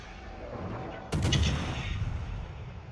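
A single heavy tank cannon shot booms out in a video game battle, one loud blast cutting through a constant rumbling engine and battlefield drone.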